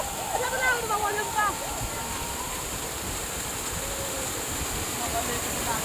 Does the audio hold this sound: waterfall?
yes